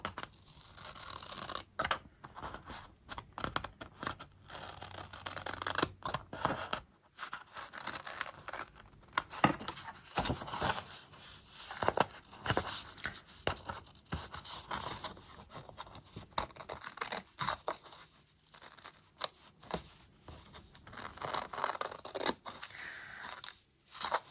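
Scissors trimming paper in a Happy Planner, a close series of irregular crisp snips and papery crinkles that come in quick bursts with short quiet gaps and no talking.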